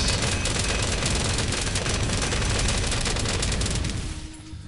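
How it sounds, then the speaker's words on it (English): Gatling gun towers in the tower defense game Bloons TD5 fire a continuous, dense rattle of rapid shots that holds loud for about four seconds before tailing off, with no talk. "I'm going to have to shoot all of them with my Gatling guns"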